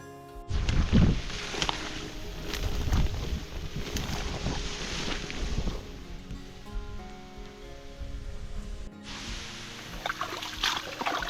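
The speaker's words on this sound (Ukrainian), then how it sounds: "Погода така, що ну, вітер бушує" Strong gusty wind by a river buffets the microphone in heavy, uneven rumbling bursts, with a broad rushing roar that briefly drops near the end before returning.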